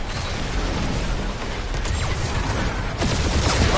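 Rapid spaceship gunfire during a dogfight in the Guardians of the Galaxy video game, a dense continuous mechanical rattle of shots over roaring engine noise, loud and close with no pauses.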